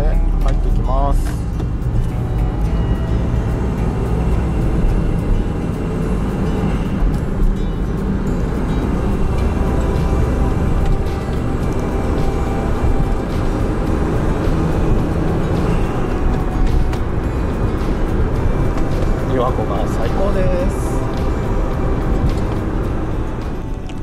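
Honda S660 cruising along the lakeshore road by Lake Biwa, a steady engine and road drone filling the whole stretch at constant loudness, with a voice talking over it.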